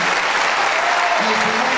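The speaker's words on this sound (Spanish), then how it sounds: "yo quiero que haya un gran aplauso para todos los concejales" Dense, even applause for the city councillors at the opening of a legislative session, a continuous loud wash of many hands clapping from start to finish.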